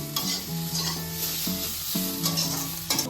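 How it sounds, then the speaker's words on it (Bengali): Sliced pointed gourd sizzles in raw mustard oil in a pan, with a continuous loud frying hiss and repeated scraping strokes of a spoon stirring through it, close and without speech. "কাঁচা সরষের তেল দিয়ে নেড়ে চেড়ে নামাই দিতে হবে।"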